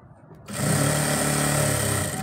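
A sewing machine runs steadily as it stitches pleats into a salwar, a loud continuous mechanical whir that starts abruptly after a brief quiet moment and holds to the end.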